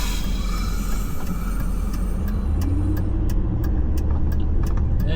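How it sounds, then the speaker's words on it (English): A supply truck approaches with a low engine rumble that grows heavier and closer, while sharp clicks and rattles tick through the latter half. "Looks like the truck is here."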